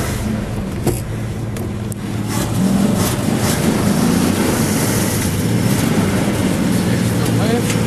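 An old Holden VB Commodore with flat tyres reverses, its engine rumbling low and rising into a louder, rougher drone after a couple of seconds, with some speech heard over it.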